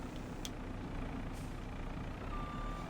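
A truck reverses in the farming simulator video game, sounding a few faint high reversing beeps over a low steady engine rumble, quiet and distant-sounding with no talk.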